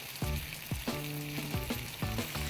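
Pieces of meat sizzle in a hot pan, a close, continuous crackling fry with repeated bursts of spattering and no voices.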